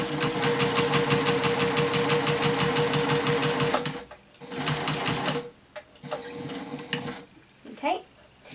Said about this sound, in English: I lift up my presser foot, place this under, and put my needle down, and I'm just going to stitch along the edge of this